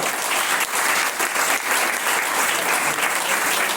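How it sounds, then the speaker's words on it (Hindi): Loud, dense audience applause at a business event in India, steady clapping throughout with no talk over it. "जबरदस्त ताली मार दीजिएगा"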